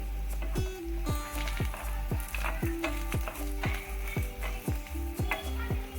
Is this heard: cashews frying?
yes